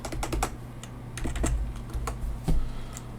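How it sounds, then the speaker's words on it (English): Typing on a computer keyboard: quick, close, irregular clacks of keys in short runs over a low background hum, with no talk. "Let's type that in."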